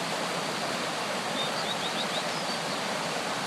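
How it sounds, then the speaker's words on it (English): A small waterfall outdoors pours in a steady, loud broadband rush, with a few faint bird chirps in the trees above the constant flow. "the way that the water's falling through here"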